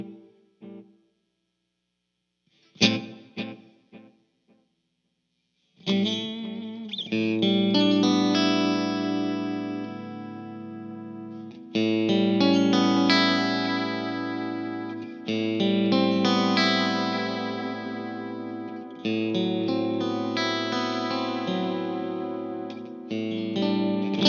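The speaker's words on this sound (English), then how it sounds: "these are the delays and the reverb in front" Electric guitar played through a Mesa Dual Rectifier amp with delay and reverb in front, drenched in echo, chords ringing out with long echoing tails after a few sparse opening plucks.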